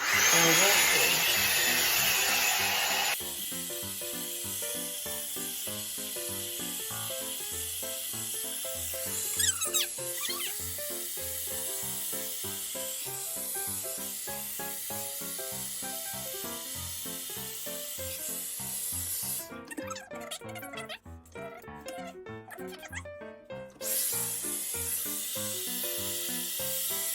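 A One Step hair dryer brush blows with a steady airy whir, a brief louder burst at the start then a continuous hum with fluttering changes as it moves through hair.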